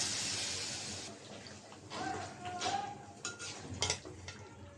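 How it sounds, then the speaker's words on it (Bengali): A little water goes into chicken frying in spice paste, a brief pour and hiss at the start, then clinks and scrapes of a utensil against the pot, close and fairly quiet. "মুরগিটা কষাবার জন্য অল্প একটু পানি দিয়ে দিলাম।"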